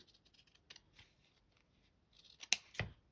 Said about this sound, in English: now we're just going to cut around the outside.